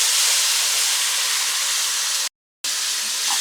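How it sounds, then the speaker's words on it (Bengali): Sugar syrup poured slowly into hot frying semolina halwa, giving a loud, steady, close steamy hiss that cuts out briefly for a split second, then resumes just as strongly. "এখন ওই যে শিরাটা রেডি করে রেখে দিয়েছিলাম এই শিরাটা এখন আস্তে আস্তে করে দিয়ে দিব।"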